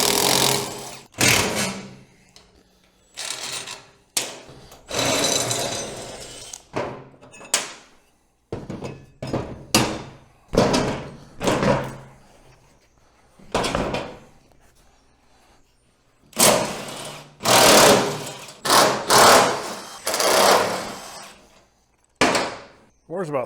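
A power tool is used to remove the nuts and bolts holding the seats on an old, broken golf cart. Loud, close bursts of whirring come in uneven spurts separated by short silences and clunks of handling.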